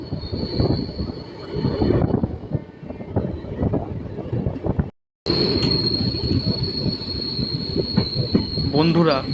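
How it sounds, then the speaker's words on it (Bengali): A train pulls into Kurmadanga station with a loud, rumbling roll and high squealing wheels. The sound cuts out briefly, then returns with the same steady clatter and screech. "ট্রেন এখন চলে আসলো দ্বিতীয় পর্বের প্রথম স্টেশন কুর্মডাঙ্গা"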